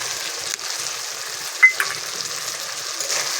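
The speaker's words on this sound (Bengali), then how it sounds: "মশলাটা ভালো করে কষিয়ে নেব।" A ground paste of cumin, coriander and dried red chili fries in a pan for mutton curry, giving a steady, fairly soft sizzle with a brief sharper crackle midway.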